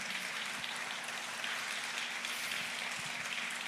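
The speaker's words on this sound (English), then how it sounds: "Round of applause. Clap it up, y'all." Steady applause from an audience, a dense wash of many hands clapping continuously at moderate distance, with no voices on top.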